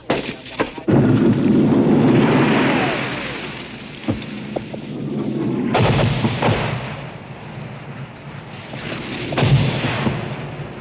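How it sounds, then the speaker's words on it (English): Artillery fire from U.S. gun emplacements a few miles away during the Vietnam War in 1968: heavy booms and rumbling blasts hit at irregular intervals, loud and reverberant over continuous battlefield noise. "The platoon leader radios for artillery support from U.S. gun emplacements a few miles away."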